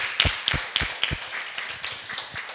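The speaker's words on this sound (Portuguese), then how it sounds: "Você pode aplaudir o Senhor?" Church congregation clapping for the Lord at a Christmas service: a few sharp, evenly spaced claps open, then looser scattered clapping carries on at moderate loudness.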